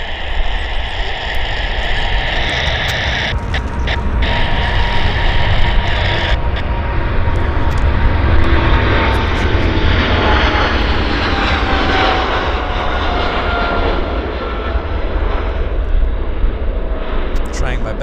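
An airliner takes off from Vancouver International Airport and climbs out, its jet engines giving a loud, steady roar that holds for the whole stretch with a slowly shifting pitch, and a voice talks over it.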